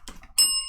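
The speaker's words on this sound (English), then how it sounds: "Bell time." A small bell gives a single bright ring that sustains and slowly fades, coming in just after a brief bit of rustling.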